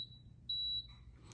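A Power XL cooker gives a single sharp, high electronic beep as a setting button is pressed, close and clear over a faint background hum.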